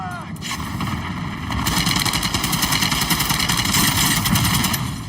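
In the video game Call of Duty Modern Warfare 2, an artillery strike rumbles with heavy, rolling booms and a rapid rattling barrage that grows louder after the first second and stays dense to the end.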